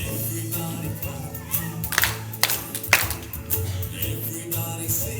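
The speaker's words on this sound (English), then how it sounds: "Everybody clap" Children at a princess-themed camp clap along during a dance song, scattered hand claps over steady music, with a few louder bursts in the middle.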